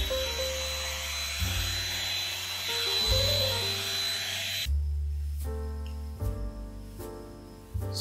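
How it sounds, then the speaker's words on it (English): A vacuum cleaner runs with a steady whirring drone nearby, its motor shifting pitch a few times as the nozzle moves and the airflow changes, with no talking. "I need to get the vacuum."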